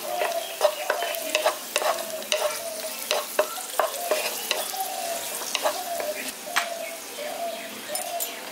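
Raisins fry in a pan and are stirred, a steady sizzle broken by repeated scraping strokes of the spoon at a regular rhythm, close and fairly loud.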